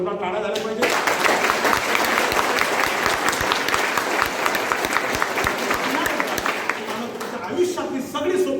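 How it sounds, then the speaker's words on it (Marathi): An audience at a business meeting breaks into loud, sustained applause, a dense wash of many hands clapping that carries on for several seconds, with voices faintly mixed in before it tails off. "एकदा जोरदार टाळ्या झाल्या पाहिजे."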